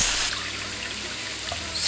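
Water poured from a tap or jug into a pot of red lentils, a brief soft trickling splash heard close up, with no voices.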